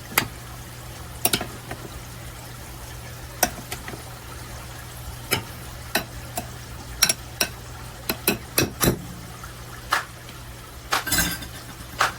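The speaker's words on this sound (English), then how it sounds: "let me give it one more good stir" A spoon clinks and scrapes against a bowl as a fresh summer salad is stirred, sharp irregular taps scattered over a quiet kitchen background with no talking.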